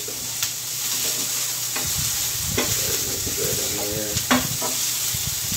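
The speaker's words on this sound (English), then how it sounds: "he's just gonna saute that down" Garlic sautéing in a pan for an alkaline red and yellow chickpea curry, with a steady close sizzle throughout and occasional stirring scrapes and taps.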